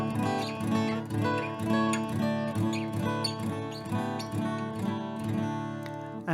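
A guitar in DADGAD tuning plays a higher version of a major skeleton scale for Irish music, giving a steady stream of plucked notes over ringing droning strings. It is soft and close and alone, with no talking.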